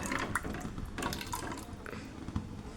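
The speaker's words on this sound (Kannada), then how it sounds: "ಇನ್ನೊಂದು ಬಟ್ಲ ನೀರು ಆ್ಯಡ್ ಮಾಡ್ಕೊಳ್ತಾ ಇದ್ದೀನಿ." Water poured from a bottle into a pot of rasam on the stove, a steady close liquid splash and slosh running throughout with small drips and clinks.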